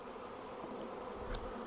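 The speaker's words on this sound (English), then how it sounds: "I'm going to also smoke the bees in the swarm trap a little bit." Honeybees buzz in a steady low drone during a swarm trap transfer, with a brief louder rise near the end and no voices.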